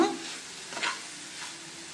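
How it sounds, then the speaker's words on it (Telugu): Broccoli and tomato fry in a pan, giving a soft, steady sizzle with a couple of brief stirring scrapes, fairly quiet and close. "ఇప్పుడు కొంతసేపు ఇలా ఫ్రై చేసుకున్నాక"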